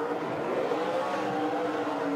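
Stock car engine roaring through a victory-lap burnout, a continuous loud, raspy rev sustained without break, with no one talking.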